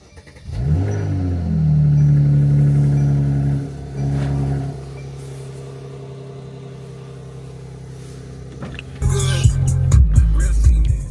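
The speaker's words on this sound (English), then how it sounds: "And now for the daily AMG cold start on open exhaust." A Mercedes-AMG engine cold-starts on open exhaust with a loud burst and rev, settles into a high idle that drops lower, then revs sharply again near the end.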